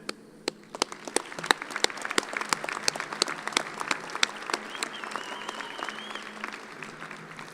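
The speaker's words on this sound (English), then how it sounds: "Will you join me in a round of applause for them?" An audience at a fall college commencement gives a round of applause, a modest scatter of distinct claps that keeps a loose rhythm and slowly thins out, with faint background murmur.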